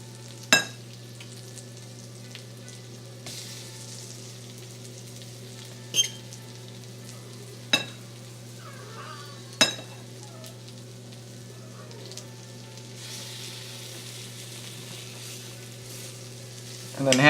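Flour-dredged mushrooms dipped in tamari frying in butter with ramps: a soft, steady sizzle over a low hum, with several sharp utensil clicks and taps spaced through the clip and no talking.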